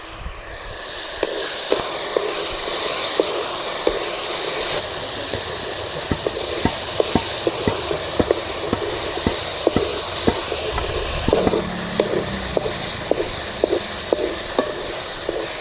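Manathakkali berries sauté in oil with a steady hissing sizzle, close up, while a spoon scrapes and taps the pan in a loose repeating rhythm over the full stretch.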